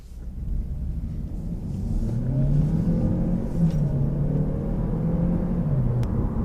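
A 2017 Opel Astra ST with a 1.4 turbo engine starts by push button, rising from a brief crank into a settled, smooth idle hum heard from inside the car.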